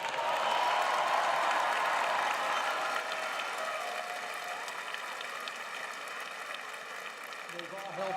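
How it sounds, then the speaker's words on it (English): Audience at an undergraduate graduation ceremony applauds, with loud, dense clapping at the start that slowly thins and fades. Cheers and voices come through in the crowd, and a few sharper claps sound near the end. "give your parents, families, loved ones, and friends a round of applause"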